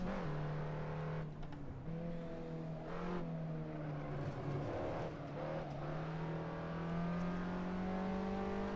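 Car engine in the Assetto Corsa racing sim, a steady, fairly quiet drone holding high revs with smooth pitch shifts through gear changes, continuous and without speech.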